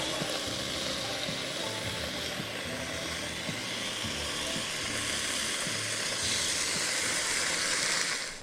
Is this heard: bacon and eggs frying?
yes